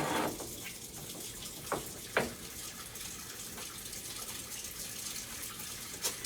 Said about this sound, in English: wash my hands just a little bit.